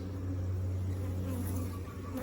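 Honeybees buzzing very close to the microphone at a single brood chamber hive, a steady loud drone with a low hum that continues without pause.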